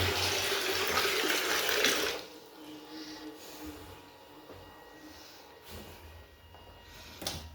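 Water pours from a leaking fish tank in a home, with a loud rushing flow for about two seconds, then a quieter steady trickle and drip with occasional splashes.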